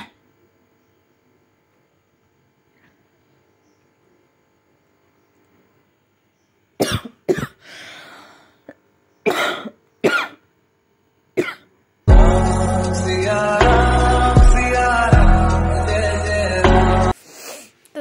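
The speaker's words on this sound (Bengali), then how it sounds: "ভিডিও ভয়েস দিতে দিতে এত কাশি পেয়ে যাচ্ছে" Several sharp, close coughs from one person in quick bursts after a silent stretch, followed by a longer loud burst of sustained harsh noise.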